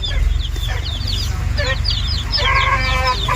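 Desi chickens on a poultry farm cluck and chirp in short, overlapping calls over a low rumbling background, fairly close and lively throughout.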